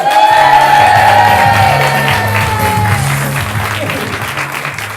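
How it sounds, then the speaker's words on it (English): A studio audience on a comedy talk show bursts into loud applause with cheers and whoops for a guest, thick and close at first, then gradually tapering off while music plays underneath. "Luke's on the Timothy Vile show. Give him a round of applause"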